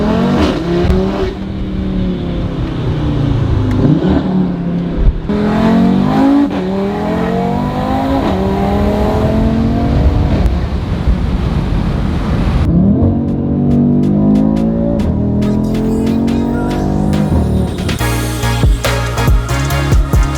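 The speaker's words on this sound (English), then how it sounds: "I'll show you guys what the car sounds like now on startup." A car engine starts and revs repeatedly, loud and close, with rising and falling pitch sweeps across several throttle blips, then settles into a rougher idle with sharp clicks and crackles.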